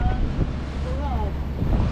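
Strong wind roars across the microphone aboard a boat crossing from Mindoro toward Navotas in rough, stormy weather, with waves surging steadily beneath; a loud, continuous rushing fills the whole stretch.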